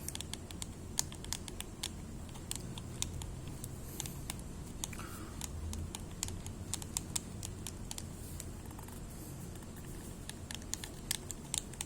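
A back button attachment for a DualShock 4 controller clicks rapidly and repeatedly up close, sharp small clicks in quick irregular runs with no talking.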